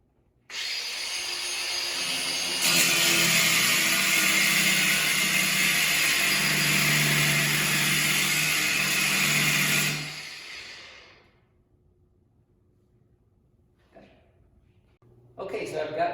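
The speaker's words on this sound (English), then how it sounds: "Now I'm going to do a horizontal cut at the base." A grinder with a cutting blade makes a horizontal cut across the base of a homemade pegboard for a Kobalt tool chest, giving a loud steady whine that rises in pitch, then winds down into quiet with a few faint knocks.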